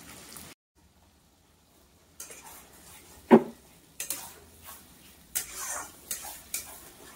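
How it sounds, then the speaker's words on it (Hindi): Masala spices fry in a pan alongside fish, a stretch of near silence giving way to bursts of sizzling, sharp clinks and repeated stirring scrapes. "अब जितना भी मसाला है अब सब सारा फ्राई कर रहे हैं"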